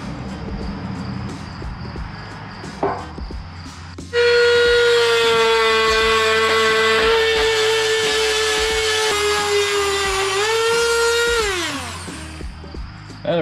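A small sandpaper drum on a light-duty rotary tool grinding metal, a sudden high whine that holds steady for several seconds, dips in pitch, then winds down, near and loud.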